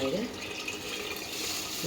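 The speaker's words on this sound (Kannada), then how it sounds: "ಇವಾಗ 1 ಲೋಟ ಅಕ್ಕಿಗೆ 2 ಲೋಟ ನೀರು" Water poured into a cooking pot for ghee rice, two cups to one cup of rice, making a steady, fairly quiet rushing splash that continues throughout.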